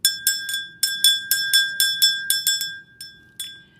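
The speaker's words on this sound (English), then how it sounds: "I haven't used that bell in a few days, have I?" A small hand bell rung repeatedly in bright, sharp strikes with ringing decay, about a dozen rings in a loose uneven rhythm, close and clear with no talking.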